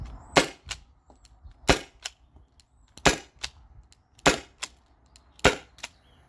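Sharp pneumatic reports from a Byrna SD launcher on a 12-gram CO2 cartridge fire about five times at a steady pace, each crack followed by a quick echo or impact tap.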